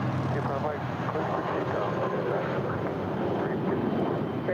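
American Airlines Airbus airliner taking off from runway 25 right at LAX, a broad steady engine roar from a distance, continuous and unchanging, with radio chatter audible in the background.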